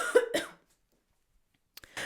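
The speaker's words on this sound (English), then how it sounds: "I just had to clear my throat there" A single throat clearing with a short, rough cough-like burst, followed by a silent pause and a brief breathy onset at the end.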